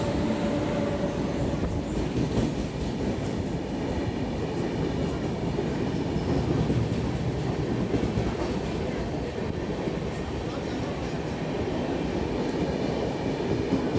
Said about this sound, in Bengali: আমাদের ট্রেন এসে পৌঁছাচ্ছে ঘাটশিলা স্টেশনে।